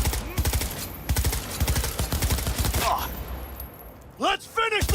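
Rapid automatic gunfire from the video game Cyberpunk 2077 rattles in loud, close bursts, pausing briefly for a reload before resuming, with in-game voices and effects mixed in.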